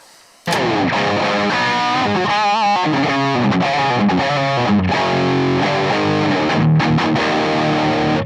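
A loud, heavily distorted electric guitar through a BluGuitar BluBox on a fat cab setting plays chords and riffs with a thick, full tone, continuous and upfront with no talking.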